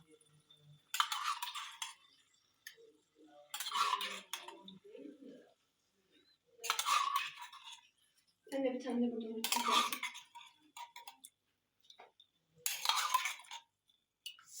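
Soup is ladled into bowls in a kitchen, and metal and ceramic clink sharply in five separate bursts with quiet gaps between them. Soft voices murmur in the pauses.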